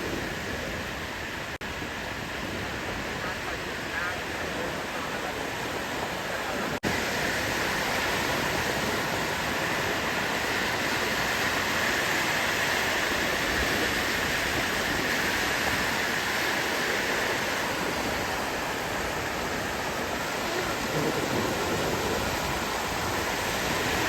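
Sea waves wash steadily onto a shore where a dead whale lies at rising tide, a continuous broadband roar of surf, moderately loud and unbroken, with no distinct individual wave breaks.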